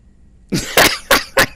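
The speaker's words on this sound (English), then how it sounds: "I love that little cough right at the end." A Salarian character from the video game Mass Effect 2 gives a short, dry little cough, a quick burst of three or four close throat-clearing hacks heard alone.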